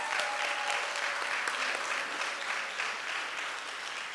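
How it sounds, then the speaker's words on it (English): Room of reunion guests applauding the planning committee at a family reunion, steady clapping throughout at moderate level that eases slightly toward the end. "Give them all a round of applause."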